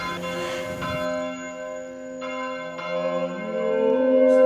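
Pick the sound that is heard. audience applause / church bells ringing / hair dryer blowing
church bells ringing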